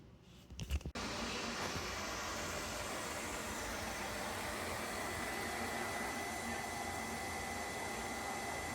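A robot vacuum cleaner runs on a zigzag pattern around a kitchen, passing under an island and bumping a chair, giving a steady broadband whir and hiss after a brief clatter at the start, close and continuous.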